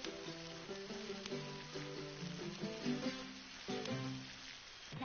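A steak cooks on a barbecue spit in Monster Hunter World, a steady soft sizzle with crackling spits running the whole time, heard under game music and with no talking.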